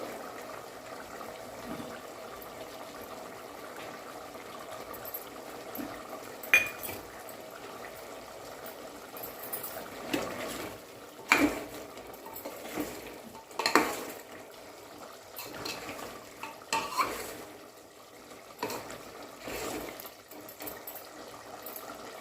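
A spoon stirring masala and coriander into chicken curry in a pot, quiet scraping and clinking against the metal at irregular intervals, with a few louder knocks and soft bubbling underneath.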